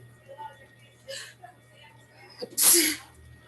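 A single loud sneeze bursts out near the end, sharp and close, following a few faint breathy sounds and small noises in a quiet room.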